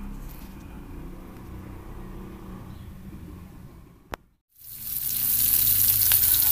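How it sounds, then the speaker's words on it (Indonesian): Ground paste of shallot, garlic, candlenut, pepper and coriander sautéing in a pan for chicken semur, a low rumbling fry that drops to near silence after a sharp click, then a loud bright sizzle bursts up. "saya menumis bumbu ulegan, yaitu bawang merah, bawang putih, kemiri, merica, tumbar, diulek dan ditumis sampai layu"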